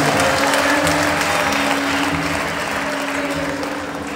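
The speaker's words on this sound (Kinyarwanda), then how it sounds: "mwamumpera amashyi menshi cyane mu kageni" An audience applauding at an emotional farewell gathering, a dense, loud, sustained clapping from a crowd that fades slightly toward the end, with no talk.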